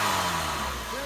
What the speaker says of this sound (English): Just listen to how quiet this race-bred PT is.